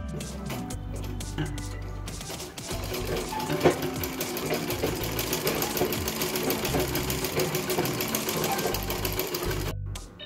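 A sewing machine runs continuously at close range, stitching darts into a blouse with a dense, rapid mechanical clatter that stops abruptly at the end.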